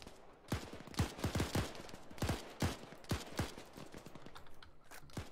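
Gunfire in the military video game ArmA 3 during an urban firefight, a rapid string of sharp, punchy shots in irregular clusters, close and loud, with no talk over them.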